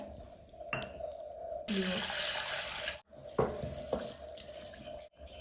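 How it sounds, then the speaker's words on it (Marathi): Tap water runs over dal lentils being rinsed clean in a kitchen sink before cooking. A steady splashing rush lasts about a second and a half, with softer clinks and trickles before and after. "डाळ आपल्याला स्वच्छ पाण्याने धुवून घ्यायची"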